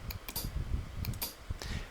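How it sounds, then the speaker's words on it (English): Several short, crisp closed rock hi-hat ticks from QBackbeats drum machine software, sounded alone at an even pace, bright and close. "Okay, then you have a rock hi-hat."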